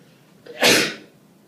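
A single loud, close sneeze with a brief inhale before it, standing alone against quiet.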